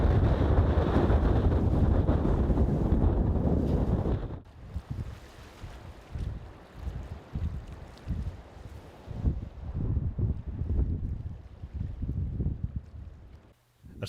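Strong tramontane wind roaring across the Darnius-Boadella reservoir, whipping up waves; heavy gusting buffets the microphone for the first few seconds, then choppy water slaps and splashes in uneven bursts under continuing wind.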